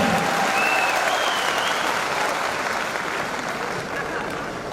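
Seminar audience applauding: dense, steady clapping from many hands fills the room at a fairly loud level, tapering slightly toward the end, with no speech over it.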